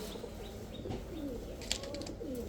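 A silver female Pakistani Teddy pigeon cooing in soft, low repeated calls over a steady background hum, with a few faint chirps.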